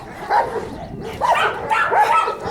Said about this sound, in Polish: stąd też taki zgiełk mamy, bo psy pracują